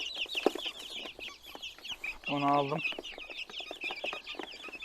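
Young chicks of fancy breeds cheep in a carrying basket, a steady high peeping chorus up close with a lower cluck-like call midway, while someone speaks briefly.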